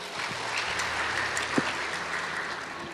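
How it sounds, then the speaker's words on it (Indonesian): A church congregation claps together in steady, dense applause that fills the room and carries on throughout, with no talking over it. "Tepuk tangan saudara."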